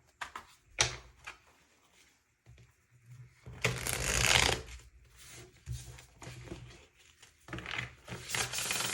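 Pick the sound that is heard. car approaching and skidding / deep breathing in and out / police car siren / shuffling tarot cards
shuffling tarot cards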